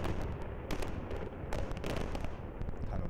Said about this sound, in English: the DPRK ignited explosives in tunnel number 2